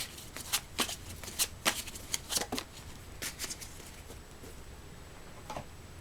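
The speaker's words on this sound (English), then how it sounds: "I'm going to pull a card from my Rooted Wisdom deck" An oracle card deck named Rooted Wisdom being shuffled by hand, a run of quick, crisp riffling bursts and taps up close, thinning out toward the end, with no talking.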